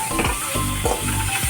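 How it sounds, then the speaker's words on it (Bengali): Leafy greens frying with shrimp in a pan, a loud continuous sizzle with rhythmic scraping strokes of stirring, close up and with no talk. "এটা শাক ভাজা বসিয়েছে চিংড়ি মাছ দিয়ে।"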